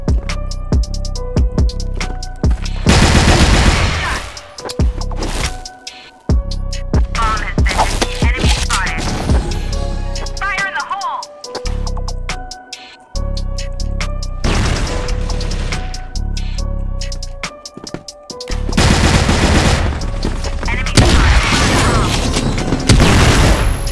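Gunfire in a shooting video game comes in loud, rapid bursts and single booming shots, separated by short pauses and mixed with other game effects.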